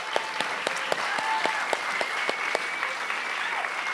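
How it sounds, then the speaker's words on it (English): An awards ceremony audience applauds steadily, a dense wash of clapping with a few sharper individual claps standing out; the applause is continuous and fairly even for the whole stretch. "Please give them a huge round of applause."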